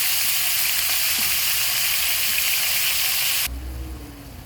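Ingredients frying in plenty of oil as they brown in a pan, a loud, dense, close sizzle that suddenly drops to a soft hiss near the end, no talk.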